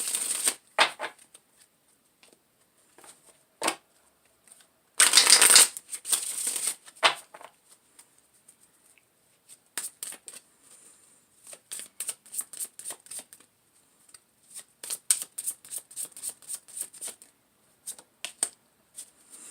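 Tarot cards are shuffled close by in irregular bursts of crisp riffling and slapping, with quiet gaps between them and no talking.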